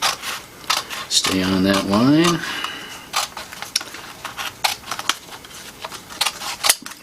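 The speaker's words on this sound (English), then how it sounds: "Got my big scissors back again." Large scissors snip through folded paper for a Halloween craft, making a string of sharp clicks and crisp cuts under a person's talking and a brief sliding tone.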